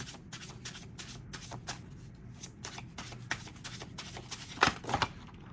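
A deck of Old Soul Oracle cards being shuffled by hand: quick bursts of riffling and slapping repeat in an uneven rhythm, close and fairly soft, ending with a couple of sharper card snaps.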